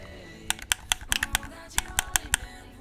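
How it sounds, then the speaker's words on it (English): Quick plastic clicks and taps in an irregular burst from a Scuf FeaR controller's directional pad hitting its casing, close and fairly quiet. "that's the sound of the D-pad hitting the controller"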